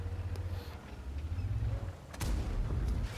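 Artillery shell impacts on a T110E5 tank in a tank battle video game, heard as heavy low booming rumbles with a sharp crack near the two-second mark, loud and close, without talk.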